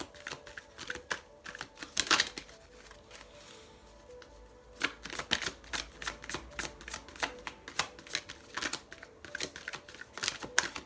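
A deck of Sacred Earth oracle cards is shuffled and drawn by hand, giving close, crisp riffling bursts and flicks that come in quick irregular clusters with short pauses between.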